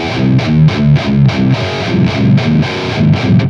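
Distorted electric guitar riff through a cab impulse response captured with a contemporary M130 figure-8 ribbon microphone at the center position, with rhythmic chugging chords, a heavy, dark low end and no talking.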